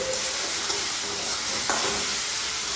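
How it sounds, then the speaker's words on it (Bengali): A spice paste thinned with water fries in a pan for a mutton curry, giving a steady, close hiss of sizzling oil with a soft stirring scrape near the end. "এই পেস্টটাকে আমি ছেড়ে দেবো, দিয়ে একটু নাড়াচাড়া করবো"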